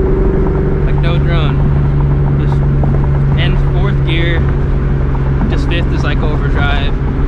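Steady in-cabin rumble of a 2004 Ford Mustang GT fitted with a Borla ATAK exhaust at an easy cruise, low engine hum and wind roar running unbroken while someone talks over it.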